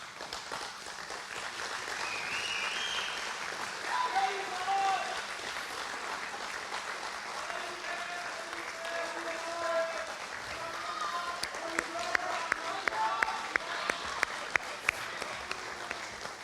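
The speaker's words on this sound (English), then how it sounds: "stand up and give a round of applause for your families" An audience stands and applauds their families at a speaking event, a moderate, steady clapping that swells briefly then continues, with a few sharper claps standing out toward the end.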